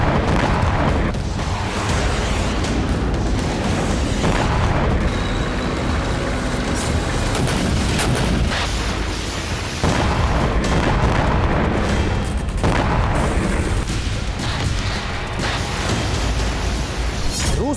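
Heavy bombardment in Ukraine, with continuous deep rumbling booms and blasts overlapping one another for a long stretch, loud and dense with no pauses and no voices.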